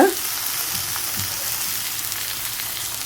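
Onions and tomatoes sautéing in a pan for a North Indian style rajma gravy, giving a continuous moderate sizzle with a faint clatter at the start.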